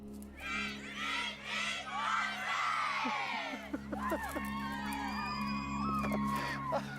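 A live crowd cheers, whoops and screams together after a stunt, a loud, rolling burst of excited voices with high shouts rising above the roar and continuing steadily to the end.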